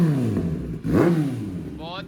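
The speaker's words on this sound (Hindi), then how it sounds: "थोड़ी सी रेव करो भैया।" A Kawasaki ZX10R motorcycle fitted with an Arrow full exhaust system gives a short, rising rev that swells and falls back, heard up close with people talking over it.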